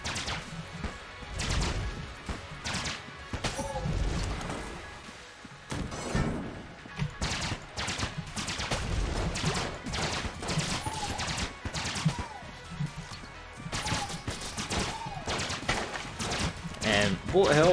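Rapid bursts of gunfire from the Full Core gun in Enter the Gungeon, sharp repeated cracks and thuds in quick succession throughout, mixed with game effects while someone talks over them.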